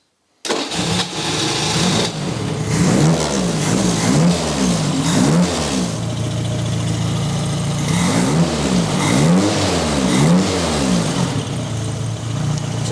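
A Royale RP30 Formula Ford race car engine cranks and catches, then idles loudly and close by with repeated throttle blips that rise and fall in waves.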